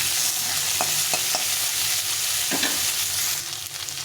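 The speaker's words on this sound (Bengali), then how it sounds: "আলুটাকে প্রথমে একটু ভেজে নেব।" Finely chopped potato pieces fry in hot oil in a pan, a steady sizzle broken by several sharp scraping stirs of a spatula, heard close and without talk.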